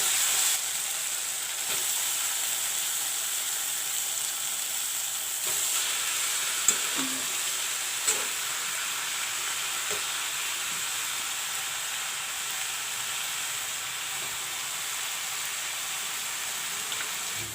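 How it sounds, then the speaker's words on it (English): Cabbage fries in browned masala with a loud, steady sizzle and hiss, broken by occasional scrapes and taps of a spoon stirring the pan. "Now I will put in the cabbage."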